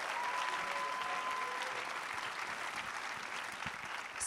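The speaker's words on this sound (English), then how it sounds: "So let's give them a round of applause." An audience at a South by Southwest panel applauds, a steady, full round of clapping from many hands with a faint voice over it, holding throughout before swelling slightly at the close.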